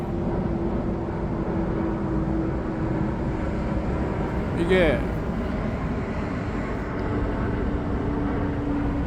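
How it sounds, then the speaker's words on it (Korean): An airplane passes overhead, a low steady engine drone beneath someone speaking, with a brief higher swell midway. "비행기가 가까이 지나가지만"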